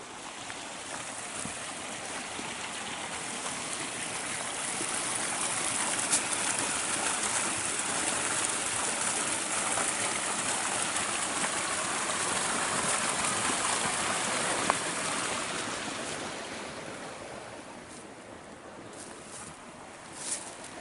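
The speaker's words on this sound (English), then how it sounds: "Here's that creek" A creek at a trailhead in Winona State Forest gives a steady, broadband rush of flowing water, close and continuous, easing slightly quieter toward the end.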